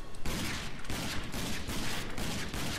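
Grenade blasts and gunfire in the shooter game Rage burst out in rapid succession as dense, loud, crackling volleys that repeat every half second or so with brief gaps between them.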